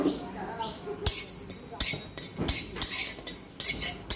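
Panch phoron, coriander, cumin, a bay leaf and a dried chilli dry-roasting in a kadai, heard as a run of sharp metallic scrapes and rattling clinks from stirring in irregular bursts, with faint background sounds between them.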